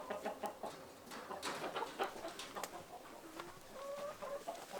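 Barred Rock and red hens cluck in a backyard double-sided chicken coop, a busy stream of overlapping soft clucks and short calls, fairly faint with no talking.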